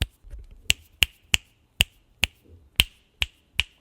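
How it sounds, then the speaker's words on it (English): Sharp finger snaps in front of a Rode XCM-50 USB condenser microphone, about nine crisp clicks at irregular intervals in a quiet room. "So let's do a little snap test."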